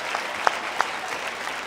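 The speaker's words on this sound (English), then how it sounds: "let's give them all 3 a big round of applause" Three volunteers at a church session get a round of applause, with a steady wash of crowd clapping and a few sharper individual claps standing out.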